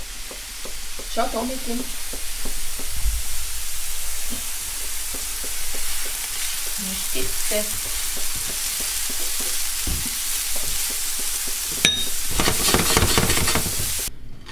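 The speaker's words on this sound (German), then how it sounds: "Jetzt machen wir ganz kurz beim Lauch umrühren, bitte." Leeks frying in a pan are stirred, a steady sizzle running throughout with scraping and clatter from the utensil, as food for filled potato pockets is cooked; a brief spoken remark comes in low beneath the cooking.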